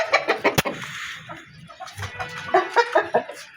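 A rooster clucks in short irregular bursts, with bird calls close by and some rustling between them.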